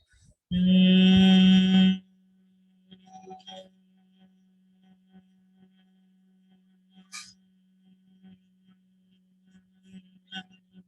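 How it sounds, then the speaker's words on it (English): Steady humming made on the exhale during pranayama breathing, a single loud, even tonal hum of about one and a half seconds, followed by a long quiet stretch with faint room noise. "While exhaling out, create a humming sound."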